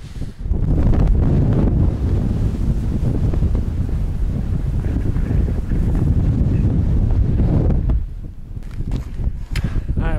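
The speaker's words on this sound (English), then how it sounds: "I don't know if I've ever actually felt wind this strong." Very strong mountain wind on the road to Everest roars and buffets the microphone in a loud, continuous rush, easing slightly toward the end, with no clear talking.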